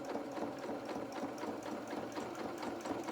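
A sewing machine stitches a fabric baby bib around a curve, running in a steady, fast mechanical whir with a rapid ticking pulse and no talk.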